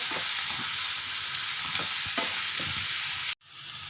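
Vegetables frying in a pan for sabudana khichdi, a steady close sizzle with a few soft stirring scrapes, cutting off abruptly near the end before a quieter hiss resumes.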